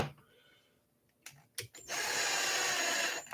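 A power driver running screws into the differential case of an Arrma Kraton 6S RC car: a few brief taps and clicks, then a steady close whir from about the two-second mark to the end.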